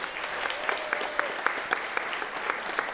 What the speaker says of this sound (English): Can you give them one more round of applause